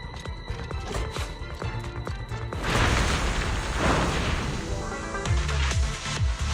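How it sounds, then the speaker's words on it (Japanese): Explosion in the video game Zenless Zone Zero, a sustained loud rumbling blast with crashing debris bursting over dramatic game music and lasting several seconds. "この部屋は爆発する。"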